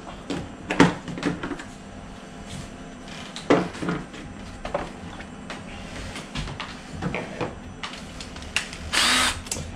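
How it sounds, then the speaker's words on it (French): A power drill with a 10 mm bit runs in repeated bursts, whining up and biting in, with brief pauses and clattering handling sounds between runs. "a priori c'est un forêt de 10 qu'il faut."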